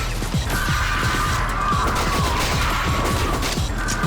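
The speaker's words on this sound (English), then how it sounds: "and you can destroy objects like crates, which may house pickups." Crates and objects are smashed in the video game Shadowgrounds Survivor, a rapid series of sharp cracking impacts and thuds repeating over a steady, dense game background.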